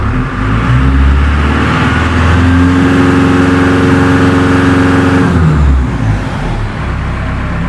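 A Cummins-swapped engine, now intercooled, revs freely with no load, a loud steady mechanical drone holding high for several seconds before dropping back to a lower idle.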